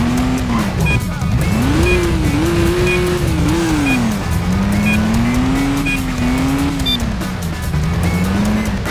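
Stunt car in the Stuntman PS2 video game braking hard and turning, a loud continuous engine drone shifting pitch with tire squeal as it slides, steady and close throughout.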